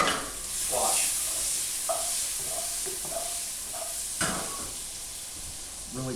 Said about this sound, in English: Keep on stirring that in there, Pop.